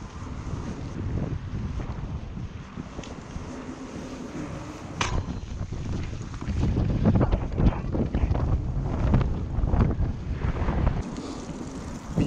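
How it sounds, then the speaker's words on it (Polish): Strong outdoor wind buffets the microphone throughout on a freezing March day, a steady low roar that surges louder midway and rumbles heavily in the bass, with no voices. "Widzicie, jaki wiaterek fajny?"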